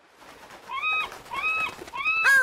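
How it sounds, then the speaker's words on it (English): Cartoon seagulls give three short, rising, squawky calls, fairly close and clear against a quiet background. "those seagulls are pecking at the mola"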